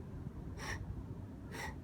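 Two sharp, rhythmic breaths, inhaled or exhaled through the mouth during an ab exercise, roughly a second apart and close to the microphone, over low background noise.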